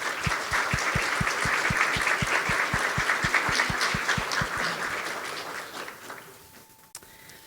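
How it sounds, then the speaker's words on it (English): An audience at a 2018 district spelling bee applauds the students with full, steady clapping, and one person claps in a strong regular rhythm within the crowd before the applause thins and fades after about six seconds. "everybody give them a great round of applause"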